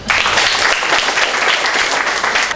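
Students at a school civic-defence briefing burst into loud, dense clapping, close and sustained at a constant level for the whole stretch.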